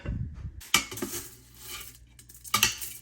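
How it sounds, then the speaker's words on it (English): A lid clatters back onto a pot of parsnip stew in a home kitchen: a sharp metallic clank, a few softer rattles, then a second clack near the end, close and fairly loud with no talking. "So I'm going to put the lid back on and let it simmer for a few more minutes"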